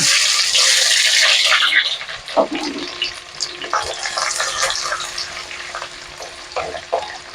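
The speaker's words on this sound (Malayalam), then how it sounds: "കടുക് പൊട്ടുന്നുണ്ടേ. നമ്മൾ ഇഞ്ചിയും വെളുത്തുള്ളിയും കൂടെ ചേർക്കുവാണ്." Chopped ginger and garlic drop into hot oil with popping mustard seeds for a rambutan pickle: a loud hiss at first, then a continuous sizzle with scattered sharp pops and crackles, close by.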